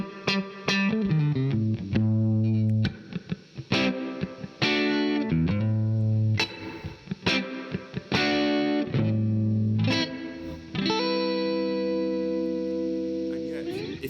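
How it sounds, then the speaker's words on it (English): Electric guitar played through a compressor pedal, with sustained chords and plucked notes in repeated phrases, evenly levelled, and a faint hiss underneath between notes; no voices. "If you can hear some hissing in the background, that's because compressors"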